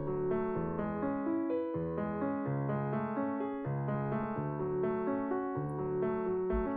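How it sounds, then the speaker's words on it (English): Piano-toned arpeggiator set to an eighth-note rate with a 200% gate, playing a chord progression as a steady stream of overlapping, sustained broken-chord notes, clear and alone. "I can use an arpeggiator and get a bit more complex voicing"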